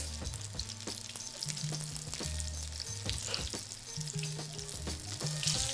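Food being double-fried in a pan of oil, giving a close, continuous bubbling sizzle with scattered pops and crackles, over a background of tonal hum.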